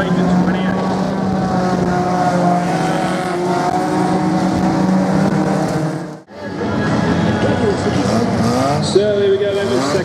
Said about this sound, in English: So here we go then, the second race of Hot Rods